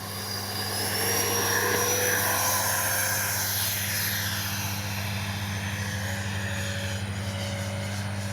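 An RC Freewing 70mm Me 262 jet model, flaps set and gear down, roars steadily through takeoff, a loud continuous whine and rushing drone holding for the whole stretch with no voices.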